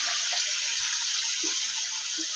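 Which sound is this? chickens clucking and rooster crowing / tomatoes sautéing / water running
water running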